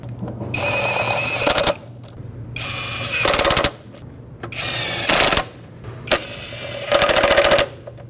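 A wrench ratchets down the crankshaft position sensor bolts on a 2011-2016 Ford F-350 with a 6.2L V8. Four loud, close runs of rapid clicking are separated by pauses, with one short extra burst between them.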